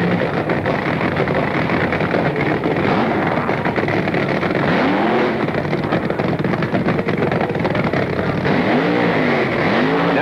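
Vintage 1969 drag racing cars at the NHRA Nationals elimination rounds, their engines roaring loud and continuous with rising revs and passing sweeps, crowd noise mixed in, no talk.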